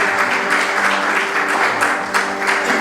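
A room full of people applauds loudly at a French-language book event, a thick, continuous burst of clapping with occasional sharper claps, steady and close throughout.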